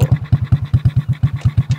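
A Ghanaian-made motorbike engine runs close by in a steady, fast-pulsing putter, each beat evenly spaced, loud and alone with no talk over it.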